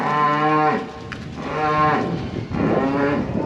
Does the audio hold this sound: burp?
no